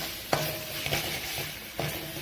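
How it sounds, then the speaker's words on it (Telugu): Ginger garlic paste frying in a pan for a prawn and potato curry, a steady close sizzle broken by several scraping strokes of a spoon stirring at intervals. "ఈ అల్లం వెల్లుల్లి పేస్ట్ పచ్చి వాసన అనేది పోయే వరకు వేయించుకోవాల్సి ఉంటుంది."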